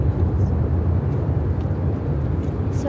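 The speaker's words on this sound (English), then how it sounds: "This is China Airlines Cargo 5239 taking off to Anchorage on the" China Airlines Cargo Boeing 747-400 freighter taking off at Chicago O'Hare, a loud steady low engine roar with broadband rumble, close and sustained without change over a few seconds.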